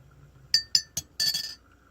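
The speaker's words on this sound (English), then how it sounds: "You need to have a metal spoon so you can mix it in a ceramic." A metal spoon clinks against a wet ceramic cup while mixing, three quick distinct taps and then a short rattling stir, close and clear with no talking.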